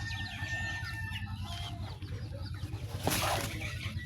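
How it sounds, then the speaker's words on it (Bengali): Broiler chickens being chased cluck and squawk in agitation, close by, with a rooster crowing in the mix and busy scuffling throughout. "মুরগি তো তাড়াচ্ছে"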